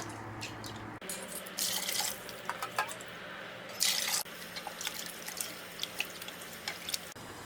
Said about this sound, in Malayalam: ഇനി ഇതിലേക്ക് 2 കപ്പ് വെള്ളം ഒഴിച്ച് കൊടുക്കാം.